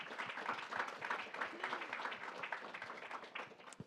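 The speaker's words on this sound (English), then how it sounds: "Please give us a round of applause for the panelists." An audience at a panel discussion applauds the panelists, a steady, fairly distant patter of many hands clapping throughout.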